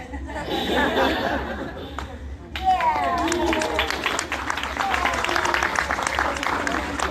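Small hands clap in irregular bursts during wedding toasts, the quick slaps mixed with crowd chatter and light laughter, the room noise swelling partway through.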